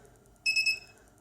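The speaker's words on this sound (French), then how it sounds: "Donc on a un petit bip bip bip bip qu'on peut supprimer avec ce bouton là." Humidity alarm on a fan speed controller for small 220V mains motors, sounding a quick run of three or four high, thin electronic beeps, close and clear over a faint background hum.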